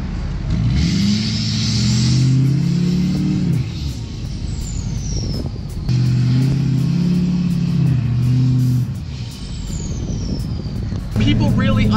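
A Duramax truck engine floored in soft beach sand, rising and holding a loud, strained roar in two long surges with a brief easing between them, a third push starting at the end, voices talking faintly under it.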